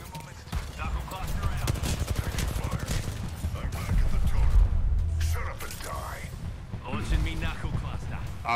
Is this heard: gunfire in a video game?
yes